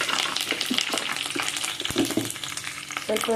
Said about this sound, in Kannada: ಸ್ವಲ್ಪ ಎಣ್ಣೆ ಹಾಕಿದ್ದೀನಿ. ಕರಿಬೇವು, ಜೀರಿಗೆ ಹಾಕಿದೆ.